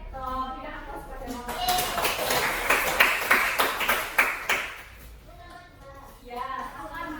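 A classroom bursts into applause, several seconds of dense clapping from a group of students, with a teacher's voice speaking before and after it.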